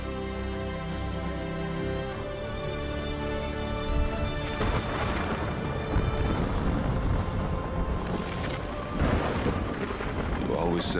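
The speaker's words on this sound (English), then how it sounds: "Said a storm was coming. Yeah. And it's almost here." Approaching thunderstorm in the video game Horizon Forbidden West: a deep, rolling thunder rumble swells and crashes twice over steady rain and wind, with a sustained musical tone underneath.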